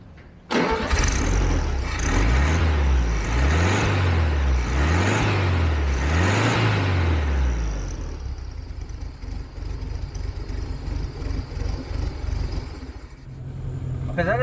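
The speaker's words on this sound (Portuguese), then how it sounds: "agora eu vou dar a partida no carro" A Volkswagen Beetle 1300L engine cranks and catches, revving loudly up and down several times before settling into a rougher, uneven idle, close up with no talking.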